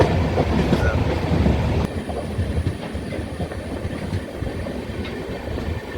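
A train running beside a trackside slum near Guwahati, Assam, with a continuous close rumble and clickety-clack of wheels that drops slightly in level partway through.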